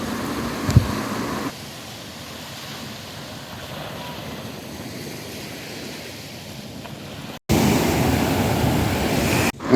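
Sea waves wash sand back at Varkala's Shivagiri beach in Kerala, a steady surf roar with wind buffeting the microphone, dropping quieter midway and then surging louder after a brief cut.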